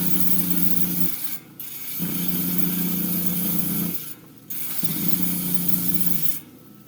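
Blade of a rock-slicing saw being dressed against an old coarse grinding wheel: a steady, loud abrasive grinding whir in three long passes, each broken by a brief dip in sound between them.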